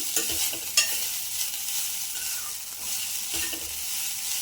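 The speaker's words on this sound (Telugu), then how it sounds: "తురిమి పెట్టుకున్న ఒక కప్పు పచ్చి కొబ్బరిని కూడా ఇందులోకి వేసేసుకొని బాగా ఫ్రై చేసుకుంటున్నాను" Grated fresh coconut frying in a pan for fish curry, a steady close sizzle punctuated by brisk spatula stirring strokes and a sharp clink early on.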